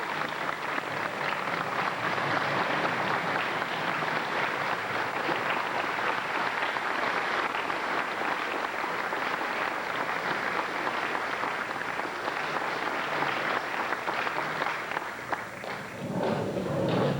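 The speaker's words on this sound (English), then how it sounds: "a round of applause for the new inductees to the Saskatchewan Baseball Hall of Fame" Sustained audience applause fills a Saskatchewan Baseball Hall of Fame induction ceremony, a dense, even wash of clapping that holds steady and only dips briefly near the end.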